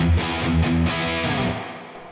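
Distorted electric guitar chords ring out through an amp on its channel 3, thick and saturated, then sustain and fade over a couple of seconds with no talking.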